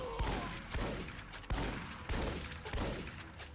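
Gunfire rings out in Fallout New Vegas, with several sharp shots cracking at roughly half-second to one-second intervals, fairly close and loud against a noisy, reverberant background, with no talking.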